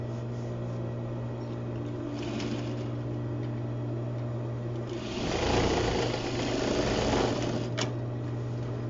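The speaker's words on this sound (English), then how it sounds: "we stitch that as far as we can go too, which is right to the corner of the mitered corner" Nearby, a sewing machine stitches a garment lining in a steady mechanical whir. The whir starts softly, then runs louder and faster through the second half, with no voices.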